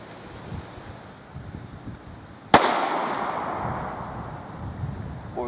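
A Smith and Wesson Shield pistol fires a single sharp shot outdoors at a Mountain Dew can, a loud crack followed by a decaying echo over a low background of wind.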